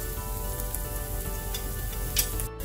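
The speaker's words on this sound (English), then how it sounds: "We're going to brown the onions a little bit before adding the rest of the ingredients" Onions browning in a pan for spiced chicken patties give a steady, close sizzle and crackle throughout, with a few brief louder pops near the end and no talking.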